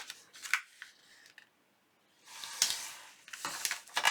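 Paper being folded and creased by hand for a large collaged junk journal envelope: soft crinkles and sliding scrapes in short bursts, a quiet pause in the middle, then firmer rustling swipes, close and fairly faint with no talk.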